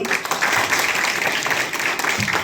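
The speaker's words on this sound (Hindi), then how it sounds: "मैं चाहूंगा कि साथ शानदार तालियां होंगी उधर" An audience at a motivational talk in Hardoi claps together, a dense, continuous wash of applause at moderate loudness that holds steady for the whole stretch with no voices over it.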